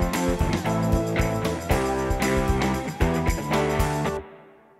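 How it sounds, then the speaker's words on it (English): A song plays through GarageBand's triplet echo delay effect, its busy rhythmic chords and beats cutting off abruptly near the end and leaving a fading echo tail trailing away. "For instance, I'll just select triplet echo. I'll play a bit of my song."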